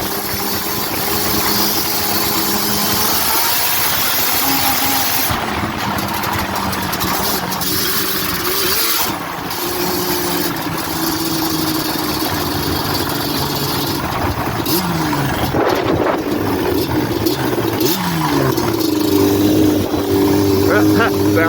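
Yamaha Banshee two-stroke ATV engine running with a water pump failure, a loud continuous buzzing engine with revs rising and falling throughout, close up, with a voice speaking over it at times.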